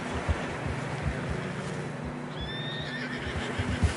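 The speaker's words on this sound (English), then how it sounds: "Horses are struggling." Horses in the Red Dead Redemption video game trudge through deep fresh snow with muffled hoof thuds and wind, and one lets out a clear whinny midway.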